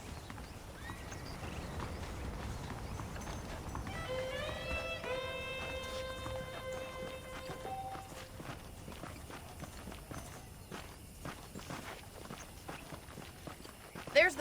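Saddled horses in the Western video game Red Dead Redemption clop along with steady, soft hoof beats and give a short whinny partway through, under light background sound.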